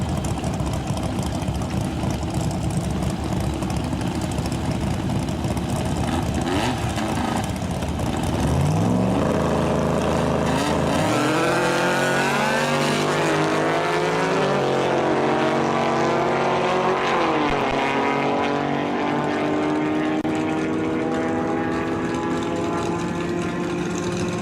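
Roaring engines of a 1965 or 1967 Volkswagen and a 1973 Chevy pickup drag racing at an outlaw event, a loud sustained drone that surges with rising revving sweeps midway, heard alone without talk.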